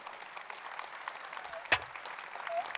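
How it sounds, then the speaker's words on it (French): Soft, fairly distant applause from an audience at a housing conference, a steady patter of many hands with one sharp louder clap standing out partway through. "Vous pouvez les applaudir quand même, ils ont été bons"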